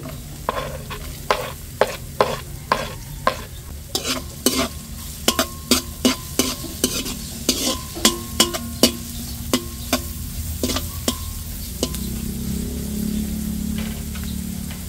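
Onions and garlic sauté in a pan for chicken curry, with a steady sizzle beneath a rapid run of sharp metallic spatula taps and scrapes, close and loud, settling into a softer hiss near the end.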